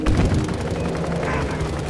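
Gunfire and tank cannon shots in Battlefield V, heard as a steady rattle of rapid shots and deep booms under a dense combat din, with a voice faintly in the mix.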